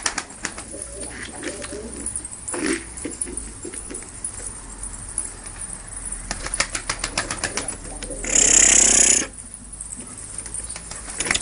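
A few low pigeon coos sound close by, then a loud burst of wing flapping erupts near the end before things settle again.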